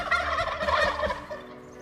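A wild turkey in Spanish Peaks habitat country gobbles once in a loud, rapid, warbling burst that trails off within about two seconds, heard alone and fairly close.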